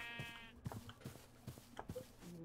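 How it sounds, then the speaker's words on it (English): Sheep bleating in TerraFirmaCraft, a modded Minecraft game: several short, faint bleats from a small flock, spaced irregularly over a low background, alone with no talk. "I am going to let the sheep out."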